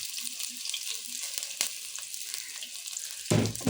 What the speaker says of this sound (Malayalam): അതിലേക്ക് നമുക്ക് 2 സവാള ചെറുതായിട്ട് അരിഞ്ഞത് നമുക്ക് ചേർത്ത് കൊടുക്കാം.